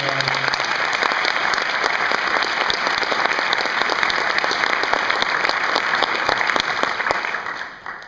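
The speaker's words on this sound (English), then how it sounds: "I want to get a round of applause for every coach out there" Loud, sustained applause from a crowd at a school spring sports awards night honoring coaches, thick continuous clapping that stays strong before tapering off near the end, no talking over it.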